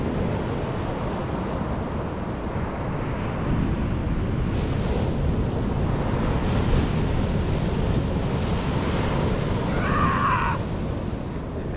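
Steady rush of surf rolling onto a New Zealand West Coast shore, with wind buffeting the microphone throughout and a brief higher whine near the end.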